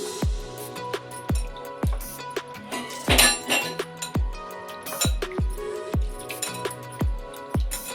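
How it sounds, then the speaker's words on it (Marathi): Moong dal being washed in water in a bowl, with a string of sharp clinks and wet sloshing splashes repeating about twice a second, close and clear, with no talking. "तर मी आता डाळ पाणी घालून स्वच्छ धुवून घेते।"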